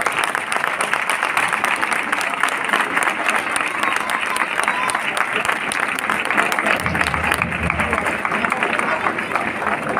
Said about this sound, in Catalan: aplaudiu a la mare de Déu